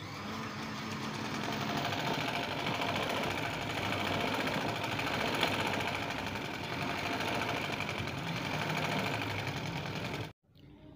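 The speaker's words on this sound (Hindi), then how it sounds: "नीचे मोड़ के ऊपर पैर पैर की सिलाई लगा रही हूँ मैं" A sewing machine stitches a fold on a sleeve, its motor running in a fast steady buzz for about ten seconds before stopping abruptly, close and loud with no talk.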